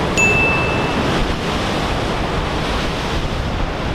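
Ocean surf on the Oregon coast at Depoe Bay rolls as a continuous broad wash of breaking waves mixed with gusty wind buffeting the microphone, loud and unbroken, with a faint high tone at the start.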